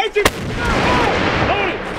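A Marine 120mm mortar or M777 howitzer firing outdoors: a sharp, sudden blast crack opens, followed by a long rumbling roar and echo, with shouting voices over the noise.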